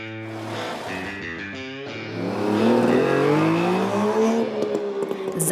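Old rally cars, including an Opel Manta, drive at a rally in Baunatal. Loud, close engine drone rises as revs climb, with a gear change and continued hard acceleration, and no talk.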